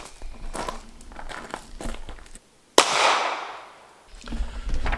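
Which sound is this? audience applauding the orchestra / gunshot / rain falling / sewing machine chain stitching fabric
gunshot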